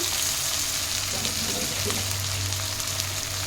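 Chopped onions and sugar sizzle steadily in very hot oil for an egg curry, a dense, continuous close-up frying hiss with faint stirring underneath.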